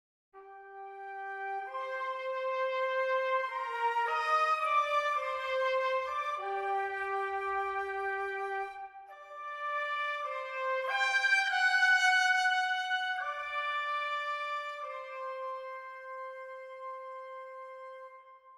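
Solo trumpet melody doubled by flutes an octave above in an orchestral arrangement, sustained legato phrases over about eighteen seconds with a brief dip near the middle, no talking.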